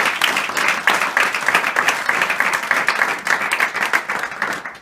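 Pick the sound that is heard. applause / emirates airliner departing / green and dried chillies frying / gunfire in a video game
applause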